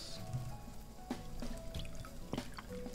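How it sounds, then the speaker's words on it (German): Tea pours automatically in the Chinese restaurant level of the cooking video game Cooking Fever, a soft liquid trickle with light drips and clicks over quiet game background sounds. "Der Tee gießt sich schon mal automatisch ein, das ist gut."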